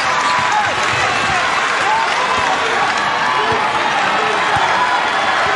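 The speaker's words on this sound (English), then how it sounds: "This crowd trying to get back into it and urge on this Liberty defense" A college basketball crowd at a Bellarmine versus Liberty game sends up steady, dense cheering and applause in support of Liberty's defense. The roar holds at a constant level throughout, with no clear individual voices.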